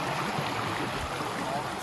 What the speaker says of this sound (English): Look at this gnarly little creek crossing.